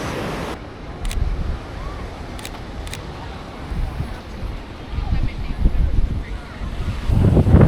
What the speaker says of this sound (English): I'm now going to wait for a shot where the waves are crashing